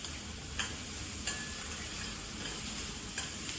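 Chopped onion and green chili frying with salt in a pan for a Konkani raan bhaji, a constant close sizzle with a few soft scrapes of a spatula stirring, no voices.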